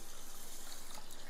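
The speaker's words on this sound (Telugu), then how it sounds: "ఇందులో వాటర్ వేసుకొని" Water poured into basmati rice in a bowl, a short continuous gushing pour heard close and fairly soft, with no voices.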